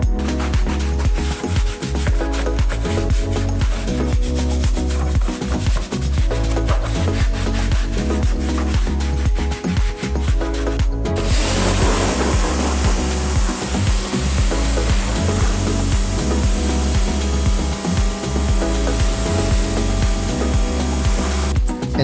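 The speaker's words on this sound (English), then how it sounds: "The floor mats were cleaned using DIY All Clean and a foamer and a stiff bristle brush." A stiff bristle brush scrubs foamed car floor mats from a Range Rover Sport in a steady, loud, continuous rasping rhythm, while a whirring machine hum runs underneath, with no talking.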